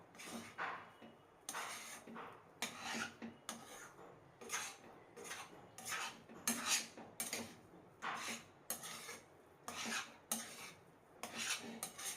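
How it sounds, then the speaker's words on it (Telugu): Potato halwa is stirred continuously in a thick-bottomed pan, a spoon scraping and rasping against the metal in repeated rhythmic strokes, close and fairly quiet. "ఇలా కలుపుతూనే ఉండాలండి కంటిన్యూస్గా లేకపోతే మాడిపోతుంది"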